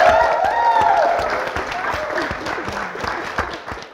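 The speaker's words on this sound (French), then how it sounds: "Merci de vous applaudir encore, public" A studio audience applauds during a French-language TV entertainment show. The clapping is loud and full at first, with a whistle or cheer over it, then eases into lighter, uneven claps.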